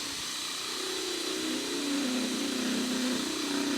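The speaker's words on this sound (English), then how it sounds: "The drill that I'm using to drill the holes in pavers, in this stone, it's 1 1/8 core drill made by Milwaukee." A Milwaukee 1 1/8 inch core drill grinds into stone pavers with a steady, loud whining drone that holds its pitch for several seconds.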